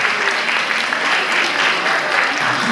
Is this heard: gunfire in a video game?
no